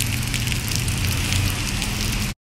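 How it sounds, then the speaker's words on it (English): Heavy rain pours down outdoors at a gas station during a hurricane, a dense, loud, continuous hiss of drops hitting surfaces close by, cutting off abruptly near the end. "It's out here raining right now."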